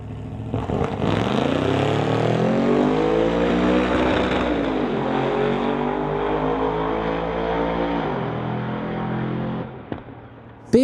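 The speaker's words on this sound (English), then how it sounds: "Big Whipple supercharger is what I'm hearing." A street legal truck engine with a big Whipple supercharger, loud and close, holding a sustained rising roar with a steady whine for about eight seconds before dropping off sharply.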